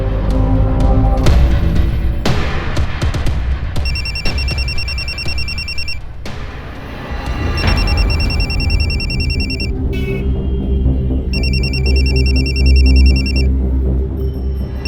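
A telephone rings repeatedly in electronic bursts over a loud, busy background of music and ambient noise, the rings coming in three separate runs.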